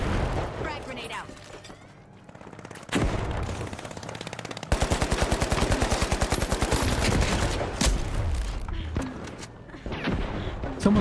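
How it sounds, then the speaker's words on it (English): Grenade blasts and rapid automatic gunfire in the video game The Finals, loud and dense, with a long stretch of fast machine-gun bursts mixed with booms and speech. "That guy's firing grenades at me."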